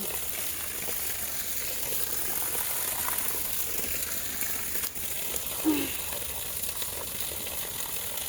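Water flows continuously from a tank on a rural vegetable plot, a steady rushing gush that stays even and moderately loud throughout, with no voices over it.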